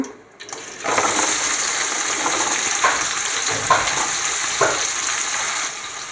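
Onions for chicken sukka hit a hot pan and burst into a loud, close, continuous sizzle after a brief quiet start, with a few soft clinks and scrapes of a spatula, and no talking.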